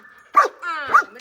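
A pet dog barks twice at close range, two sharp, loud barks about half a second apart, with a short whine between them, in a home during a Christmas celebration.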